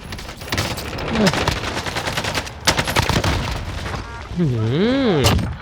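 An M1911 pistol firing on full auto in Call of Duty Warzone lets off rapid bursts of shots with sharp cracks. Game sounds and a voice are mixed in, and a wavering tone sweeps near the end.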